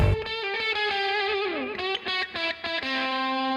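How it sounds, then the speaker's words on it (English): Electric guitar played through a Univox amp set wide open with echo, ringing sustained distorted notes and slides with repeating echo tails, loud and continuous with no voices. "this guitar is through the Univox again, kind of wide open with an echo on it"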